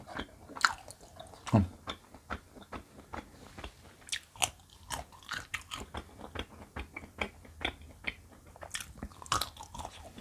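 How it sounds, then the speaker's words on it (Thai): Close crunchy bites and chewing of young Borapet (Tinospora) herb stems, an irregular run of crisp cracks and wet mastication at a steady pace with no talking. "ลองกินอันอ่อนๆบ้างค่ะ"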